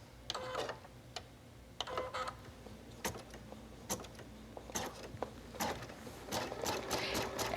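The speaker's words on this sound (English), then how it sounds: "go back to the embroidery machine and stitch my line of stitching onto my stabilizer" Embroidery machine stitching a line onto stabilizer, faint rapid mechanical whirring in short bursts separated by light ticks and clicks, no talk.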